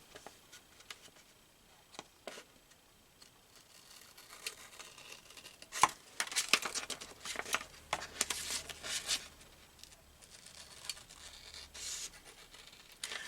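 Paper being cut out for a handmade coin envelope: soft scissor snips and crinkling paper rustle, irregular and close, growing busier midway with rubbing and rasping handling noise, no speech.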